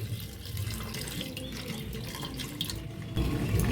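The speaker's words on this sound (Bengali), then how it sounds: "আমি এখানে জল দিয়ে দেবো" Water pours steadily into a pressure cooker holding soaked dried peas for ghugni, a continuous faint splashing stream that swells slightly at the end, with no talking.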